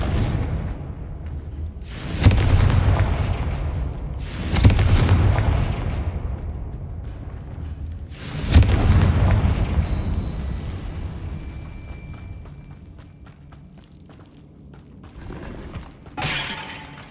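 Confringo spell blasts in the Hogwarts Legacy video game, four sharp explosive bursts spaced a few seconds apart, each with a crackling, rumbling decay, loud and close, with no talk.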